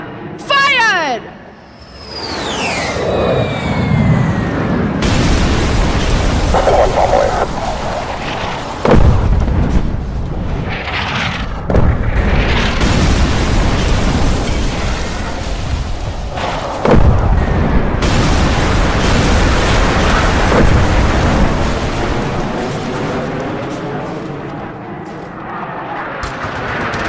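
Deep booms and explosive bursts from artillery-style fire on a target, loud and repeated, with heavy rumbling blasts rolling through, over shouted commands and talk.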